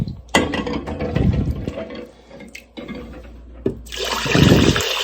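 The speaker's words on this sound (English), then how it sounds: "I'm just going to go ahead and fill this to the line that it says on the canner" Warm water poured into a pressure canner: some clattering and splashing at first, then a steady rushing stream of filling water toward the end, close by, with no voices.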